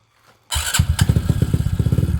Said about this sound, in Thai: ตอนนี้พร้อมทำการสตาร์ทเครื่องครับ ทำการสตาร์ทเครื่องช่างแต้ม